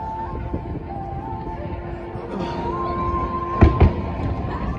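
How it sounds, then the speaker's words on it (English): Welsh fireworks display over Blackpool in October, with distant pops and rumbling bursts under a faint crowd murmur, ending in two sharp, louder explosions near the close. "this is the Welsh fireworks display"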